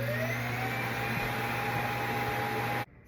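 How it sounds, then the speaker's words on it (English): A household vacuum cleaner runs steadily with a constant whirring drone and steady tonal hum, loud and close, then cuts off abruptly near the end. "Excuse my vacuum while it's working."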